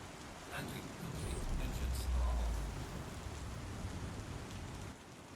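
Rain falls in the video game Star Citizen as a steady hiss of drops, with a low rumble swelling midway before settling back into a continuous, moderate patter.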